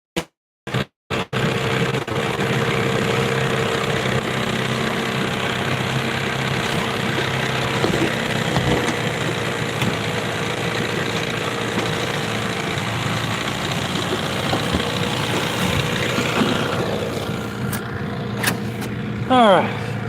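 After a few sharp clicks, a vehicle engine fires up and idles steadily nearby for a long stretch, a low rumbling hum with slight vibration.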